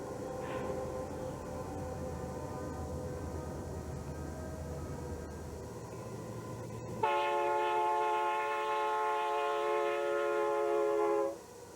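Santa Fe Warbonnet locomotives pass with a steady rumble of the train, then a loud multi-tone air horn blares for several seconds before cutting off.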